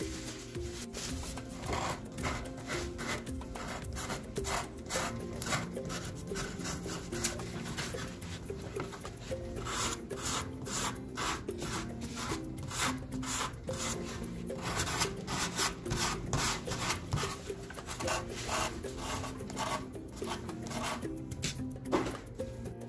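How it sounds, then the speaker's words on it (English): Rapid rhythmic rasping strokes of sandpaper scrubbing against balsa wood on a model boat hull, repeating steadily back and forth at close range with a faint background hum. "Sand this balsa wood down to match the radius of the side of the hull."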